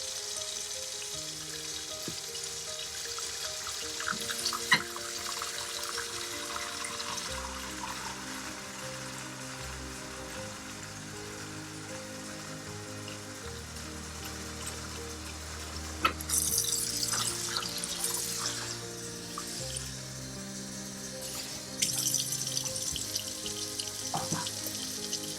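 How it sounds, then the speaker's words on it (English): Water running from a tap into a steam canner, a steady close splashing and gurgling fill with shifting pitch as the level rises, with a few clanks partway through. "So this is a steam canner. I use it instead of a water bath. And you fill it up right up until the water reaches"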